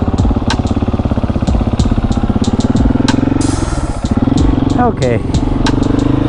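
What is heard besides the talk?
motorcycle engine in first gear during wheelie practice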